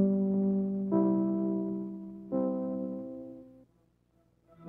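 NBC radio network chimes sound three mellow, bell-like tones in succession, each with a long ringing decay, clear and alone.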